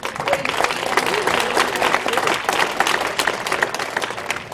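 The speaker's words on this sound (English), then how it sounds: "Let's give all the candidates a round of applause." An audience at a 2019 candidates forum gives a lively round of applause, dense clapping close by with a few voices mixed in.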